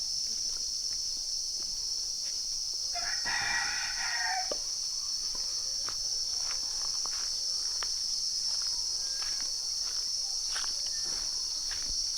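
A rooster crows once from a distance in a remote Thai village over a steady high insect drone, with faint clucks and rustles around it.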